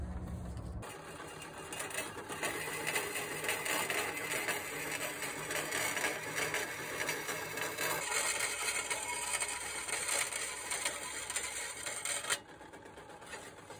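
A steel knife blank is cut out in a knife maker's workshop, a continuous harsh mechanical whine and rasp that starts abruptly and stops near the end, no talking.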